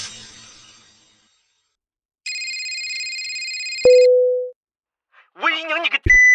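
A telephone rings in a loud electronic burst of about two seconds, followed by a single sustained tone and a short ring, with brief talk between the rings.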